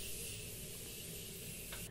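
A steady, close hiss of makeup setting spray runs almost continuously for a couple of seconds, ending with a brief puff.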